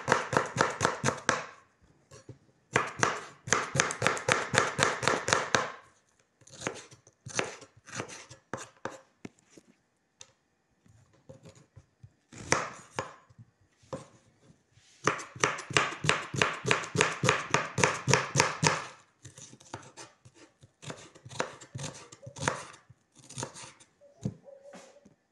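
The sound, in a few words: chopping onions with a knife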